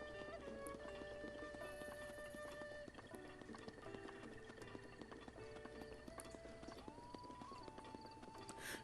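Horse hooves clip-clop at a steady, quick gallop in the video game Zelda Breath of the Wild, carrying on throughout over soft game music, with an occasional whinny.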